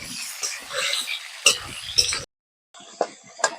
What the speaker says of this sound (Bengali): এই যে আলুগুলো আমি হালকা করে একটু ভাজিয়ে নিচ্ছি